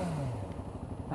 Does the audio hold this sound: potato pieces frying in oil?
no